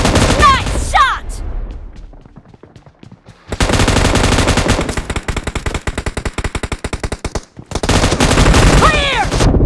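Sustained automatic gunfire in PUBG / BGMI team deathmatch rattles in long, loud bursts with a short lull between them, with in-game announcer voices and player shouts heard.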